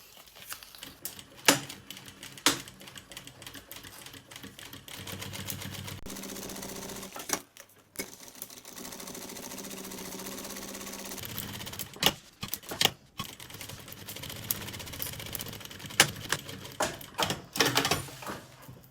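A sewing machine stitches along the side edge of a children's lunch bag, joining the fabric pocket panel to the bag front. The clatter comes in bursts with brief pauses and is loud and close, with no talk.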